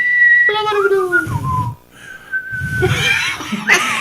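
A person whistles with the tongue, producing a few bright, wavering tones in two short bursts, close and clear, between bouts of laughter and chatter from others nearby.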